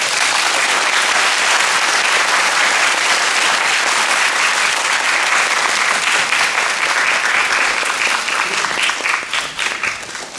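A university lecture audience gives a monk a hearty round of applause after his Buddhist philosophy talk, loud, close, dense clapping that runs steadily before thinning out into scattered claps near the end.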